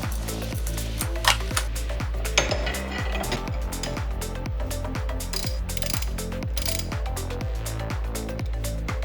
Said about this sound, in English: Now we can unscrew the pulley without the bearing rotating.